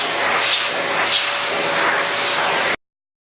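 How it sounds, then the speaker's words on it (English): A vacuum cleaner runs steadily as it cleans dust off a car headliner, a continuous close whooshing hiss with slight rubbing surges, then cutting off abruptly near the end. "So I started off by just vacuuming this thoroughly with my vacuum, trying to get that dust off there"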